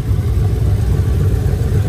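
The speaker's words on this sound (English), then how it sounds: "Why you revving and didn't tell me?" A Ford Lightning pickup revs hard close to the microphone: a loud, steady, deep engine roar that holds for about two seconds without easing off.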